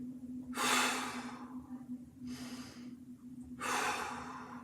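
Three slow, deep breaths drawn during a seated mobility stretch, each a loud airy inhale or exhale close to the mic, spaced about every one and a half seconds over a steady low hum.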